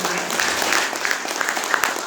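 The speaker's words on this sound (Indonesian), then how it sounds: "Tepuk tangan untuk Eco Racing." Audience applause at an Indonesian business gathering, a dense, steady wash of clapping from many hands filling the room for about two seconds.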